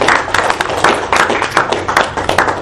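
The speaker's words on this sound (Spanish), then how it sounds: "Un aplauso." A church congregation claps together in a steady, rhythmic beat, close and lively, with no talking over it.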